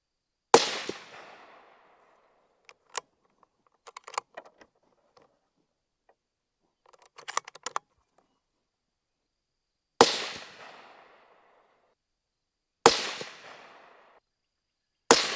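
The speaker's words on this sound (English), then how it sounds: "Gonna go ahead and put 5 more rounds on target downrange." Rifle shots fired downrange at a target through a Riton 1-10x24 optic: sharp outdoor cracks, one near the start and three more spaced seconds apart late on, with quieter clicks and handling noise between, no talk.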